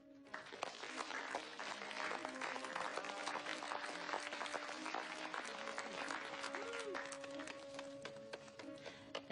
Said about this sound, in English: Let's give a big round of applause for Mrs. Somerville.